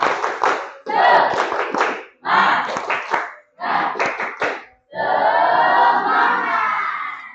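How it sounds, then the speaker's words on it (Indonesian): An audience in a teacher training session performs a rhythmic spirit clap, loud patterned bursts of clapping and shouted chanting in several short phrases, ending in a longer sustained group cheer. "Oke, biar semangat. Tepuk semangat."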